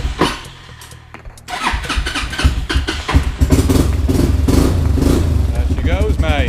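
An old car, freshly rewired and patched up, cranks and then fires into a loud, steady idle that runs on close by while someone talks over it.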